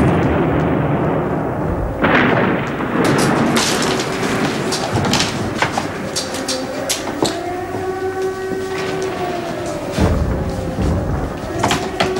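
An artillery bombardment booms and crashes in a wartime town, with heavy explosions and rumbling impacts layered over a dense, continuous roar, some bursts close and loud, others more distant.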